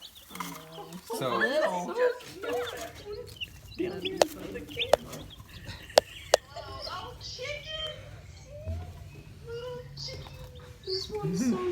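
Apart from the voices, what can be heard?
young chickens peeping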